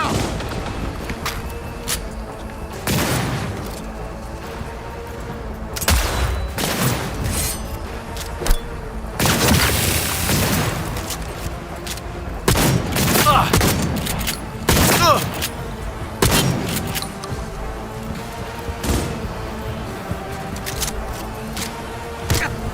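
Gunfire in the video game Cyberpunk 2077 during a close-range firefight: dense, repeated bursts of shots and heavy booms crack out loudly over a constant rumbling combat background.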